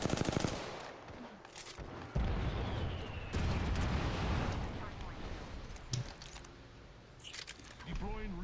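Grenade explosions in Apex Legends, with sharp blasts and booming bursts mixed with bouts of rapid gunfire, close and loud at intervals, alongside players talking.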